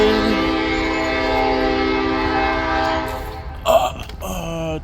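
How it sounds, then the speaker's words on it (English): A freight train with four locomotives coming out of Flint sounds a long steady horn chord nearby, which fades after a few seconds into brief clanks and rumbling. "That is a different sounding horn."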